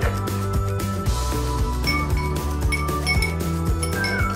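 A chopstick stirs sugar water in a glass, giving steady repeated clinks and light tinkles against the glass, close and fairly loud over a background of music-like tones.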